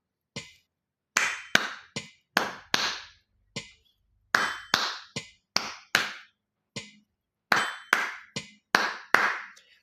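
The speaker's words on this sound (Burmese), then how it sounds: "ကျွန်တော်လက်ခုပ်ခုနတီးလိုက်တဲ့ဟာဒီ rhythm ဖြစ်တယ်" A single person claps out a syncopated rhythm, about seventeen sharp, close claps in uneven groups with short gaps between them. There are no other sounds.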